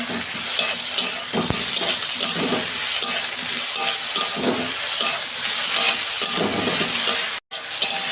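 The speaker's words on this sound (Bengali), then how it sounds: "পেঁয়াজটা তো তাড়াতাড়ি ভাজা হয়ে যায় ওই জন্য আমি পেঁয়াজটা পরে দিচ্ছি" Onions fry loudly in a pan in a cooking scene that also has eggplant, with a constant close sizzle and repeated scraping stir strokes throughout. A brief dropout comes near the end, and no one talks.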